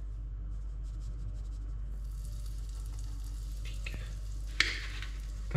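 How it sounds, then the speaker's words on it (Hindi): Oil heats in a pan with a soft, steady sizzle, faint and close, with a brief louder crackle near the end; no one talks over it. "जैसे कि ये जो तेल है अभी वो गर्म हो रहा है"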